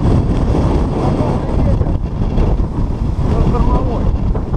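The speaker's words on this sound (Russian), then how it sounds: "Ветер штормовой." Stormy wind roars over the Grand Crimean Canyon, buffeting the microphone in a loud, continuous rush with gusty swells throughout.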